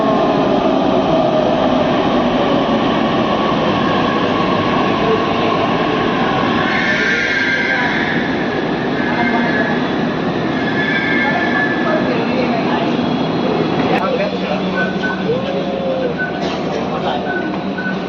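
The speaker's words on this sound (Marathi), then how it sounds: "पुणे मेट्रो." A Pune Metro train runs along the track with a steady loud rumble, wheel squeal and rising whine, some faint voices mixed in.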